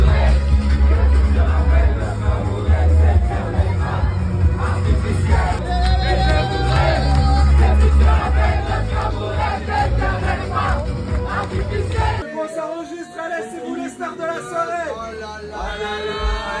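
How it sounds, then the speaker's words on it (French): Wedding guests at a reception cheer and shout for the newlyweds over loud, bass-heavy DJ music. The crowd noise is dense and continuous, then the music drops out and excited voices and whoops carry on alone. "Mesdames et messieurs, je retiens un applaudissement pour les mariés."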